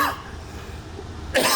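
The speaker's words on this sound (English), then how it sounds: "Sorry about that. I coughed." One person coughs sharply, close and loud, a brief burst followed by a second hoarse cough after a quiet pause, with no talking.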